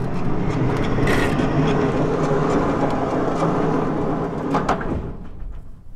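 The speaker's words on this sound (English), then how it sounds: "The sound of a sheep door." A heavy sheep barn door rumbles and scrapes as it slides open, a long grinding roll with creaks and a few knocks near the end.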